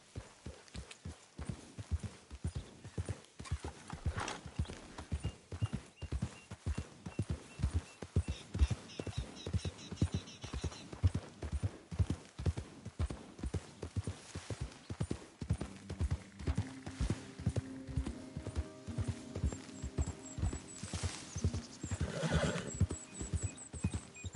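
A horse in Red Dead gallops with steady, rhythmic hoofbeats running throughout, and it neighs and whinnies loudly over the hooves, with a few faint voice sounds mixed in.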